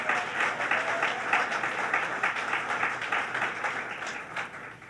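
A crowd at a New York hotel event applauds Jerry Nadler with sustained, moderately loud clapping from many hands that slowly tapers over five seconds.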